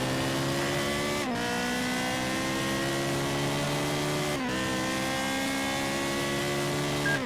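A Ferrari Challenge Stradale's engine wails loudly in a racing video game, holding high revs with two brief dips for gear shifts before climbing again, steady and close with no talking.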